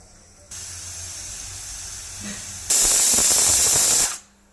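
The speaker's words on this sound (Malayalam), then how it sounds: "ഒരു 3-4 വിസിൽ വരെ ഇത് അടിക്കണം." Pressure cooker whistling as steam is released while mutton cooks, a loud sustained hiss that swells into a piercing whistle for over a second before cutting off, close by.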